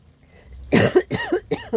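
A few harsh, close coughs in quick succession, rough and throaty, rising out of near silence.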